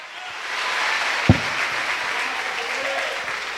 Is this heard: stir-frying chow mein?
no